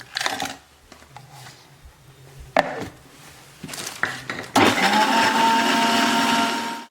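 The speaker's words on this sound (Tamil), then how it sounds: "இப்போ அதையும் திரும்பி கிரைண்ட் பண்ண போகிறேன்." A countertop blender starts up and grinds pineapple and ice cubes for a smoothie, with a loud, steady whir filling the second half after a series of clunks and knocks as the fruit and ice go in.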